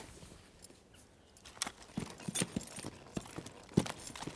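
Hooves of a young stallion clip-clop on hard ground near a corral, a slow, uneven series of close, sharp strikes that grows busier after the first second and a half, with no talk.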